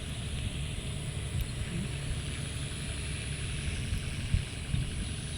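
A machine engine runs in a steady low rumble throughout, faint and unbroken, with no talk over it.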